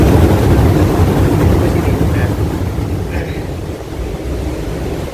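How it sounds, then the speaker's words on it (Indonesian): Strong wind buffets the microphone at Watu Lepek beach, a loud continuous roar that slowly eases over several seconds, with a brief spoken word partway through. "Saya tidak bisa mendekat karena anginnya sangat besar sekali"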